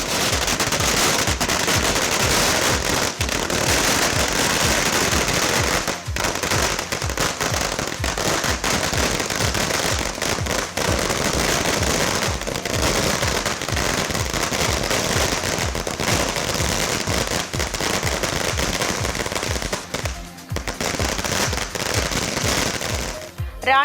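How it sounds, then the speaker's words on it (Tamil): Long strings of firecrackers burst nonstop at a street celebration by more than a hundred political party workers in Tamil Nadu. The loud, dense crackling rattles on for over twenty seconds, with faint voices beneath. "100க்கும் மேற்பட்ட தாவேக தொண்டர்கள் பட்டாசு வெடித்து இனிப்புகள் வழங்கி உற்சாக கொண்டாட்டத்தில் ஈடுபட்டனர்"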